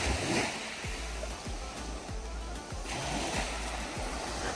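Sea waves washing onto a private beach lined with beach huts and sunbeds in Albania, a broad continuous wash of surf with repeated low rumbling surges, steady and moderately loud, with no voices.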